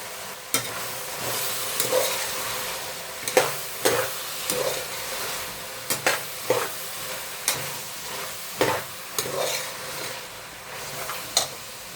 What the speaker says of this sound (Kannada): ಹೀಗಿದ್ದನ್ನೆಲ್ಲನೂ ಸ್ವಲ್ಪ ಚೆನ್ನಾಗಿ ಫ್ರೈ ಮಾಡ್ಕೊಳ್ಳೋಣ